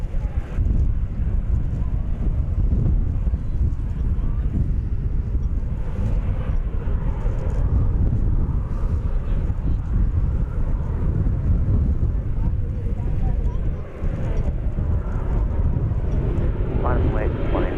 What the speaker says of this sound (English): clear for takeoff, American 1261